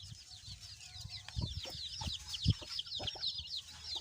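A large chicken, about 2.5 kilograms, clucking on a small farm alongside chicks, with a series of short clucks and calls at moderate distance over a quiet background.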